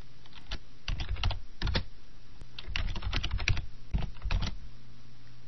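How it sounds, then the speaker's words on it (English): Fingers typing an email address on a computer keyboard, clusters of quick, close key clicks in short bursts separated by brief pauses. "Type an address in the To field,"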